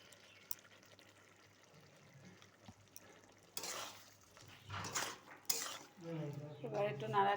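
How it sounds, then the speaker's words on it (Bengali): Cucumber, shrimp and potato curry stirred in a pan, with scraping and clattering of a spoon against the metal rising midway, soft sizzling, and a few sharper clinks near the end. "এবার একটু নাড়াচাড়া করে ঢাকা দিয়ে নামিয়ে ফেলবো"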